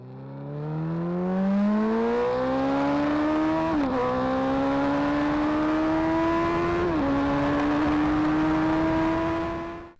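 A Suzuki Hayabusa motorcycle engine winds up hard through several gear shifts, a loud rising mechanical howl that dips briefly at each change before climbing again.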